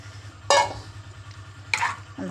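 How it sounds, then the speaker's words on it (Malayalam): Two brief splashing pours as coconut and tamarind water are tipped into a pot of curry, loud and close, over a steady low hum in a home kitchen. "അപ്പോൾ ഇതണ്ട തേങ്ങയും പുളിവെള്ളവും എല്ലാം കൂടെ ചേർക്കുക"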